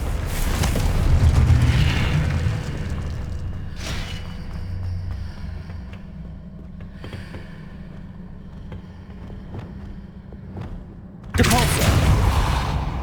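A Confringo blasting spell detonating in Hogwarts Legacy, a loud rumbling blast that decays into a low hum, with brief cracks along the way and a second heavy burst near the end.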